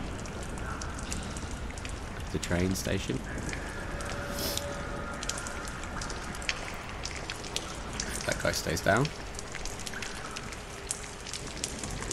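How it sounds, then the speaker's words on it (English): Rain falls in the Lies of P video game demo, echoing through a grand, music-less space as a steady soft patter, while someone talks over it. "Still no music, lots of echoes of the rain coming through."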